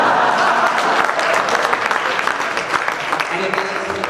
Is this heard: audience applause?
yes